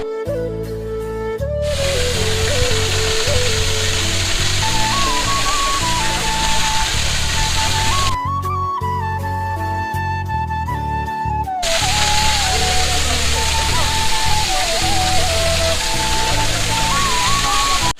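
Himchhari waterfall in Cox's Bazar roars with a steady, loud rush of falling water close by, while people talk over it throughout.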